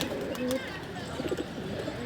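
Low, rolling coos rise from a group of female pigeons bathing in their loft, close and steady, overlapping into a soft burbling chorus with light splashy rustle.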